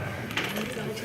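New bank quarters dropping during a kid-friendly household science demonstration, a brief metallic clink and jingle against steady room noise, fairly close.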